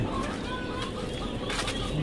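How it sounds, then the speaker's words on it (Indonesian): Many young ducklings, seven to fourteen days old, fill an egg hatchery with dense overlapping peeping and chirping, a constant close chorus with a voice briefly audible underneath. "Ui, banyaknya itik."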